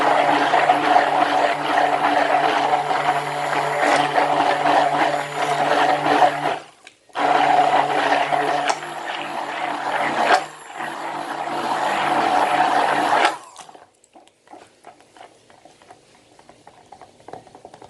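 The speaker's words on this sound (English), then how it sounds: "we're just going to whisk it for approximately 10 to 15 minutes" Body butter mixture whipped with an electric whisk, a steady loud whirring drone with two brief pauses before it cuts off, followed by faint clatter.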